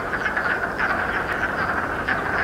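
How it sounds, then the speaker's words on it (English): Chorus of spring peeper frogs, small common frogs, calling in spring, a dense overlapping stream of high repeated peeps at middle distance with no voices. "when we start to hear the call of the spring peeper, which is a small frog that is very common here"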